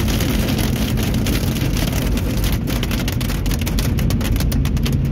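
Hail and rain pound a car driving through a thunderstorm, a loud, constant roar of drumming impacts on the roof and windscreen over the hum of road noise, with sharper pelting hits toward the end.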